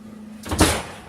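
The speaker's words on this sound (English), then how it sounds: "and close the door." An oven door swings shut after a pumpkin pie is set on the rack, making a single soft, close thud with a brief rattle and little noise around it.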